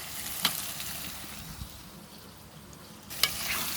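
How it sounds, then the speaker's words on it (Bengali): Catfish (magur) goes into a pan of frying spices, giving a continuous sizzle with two sharp spatula-and-pan clatters near the start and end, close and loud. "মশলা কষানো হয়েছে, এবার মাছ দিয়ে দেব।"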